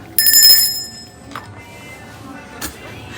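A shop service bell rung by hand in a store, a bright metallic ding with a lingering ring, followed by a couple of fainter clinks against quiet background noise.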